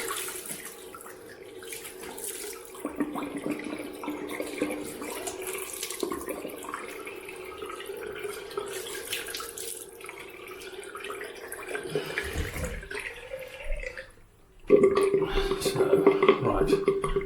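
Tap water runs steadily into a sink while soap is rinsed off a freshly shaved face. The close, continuous splashing is broken by brief pauses, and the flow surges louder near the end.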